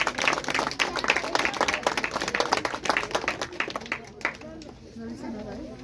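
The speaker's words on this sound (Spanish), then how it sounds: "Damos un fuerte aplauso," Strong applause from a church congregation, dense and steady at first, then thinning out with voices chattering over it toward the end.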